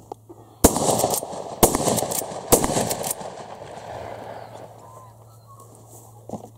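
Three sharp shotgun blasts from an Uzkon LA887 lever action shotgun fired at thrown clays outdoors, spaced about a second apart, each loud and close with a short ringing tail, followed by quieter ambient noise.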